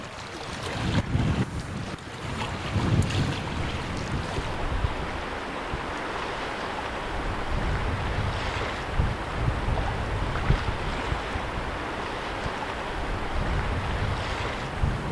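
Strong wind buffeting across open water on Lake of the Woods, a steady roar of gusts against the microphone with waves lapping underneath, continuous and loud with no voices.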